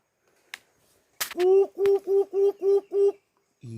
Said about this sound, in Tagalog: isang uri ng ibon